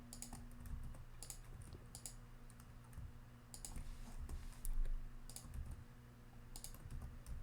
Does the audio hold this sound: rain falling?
no